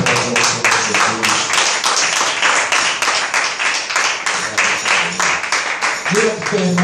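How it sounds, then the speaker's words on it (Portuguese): A church congregation claps in a quick, regular rhythm of sharp, loud hand claps throughout, with speaking or singing voices mixed in underneath. "Vamos aplaudir ao Senhor Jesus."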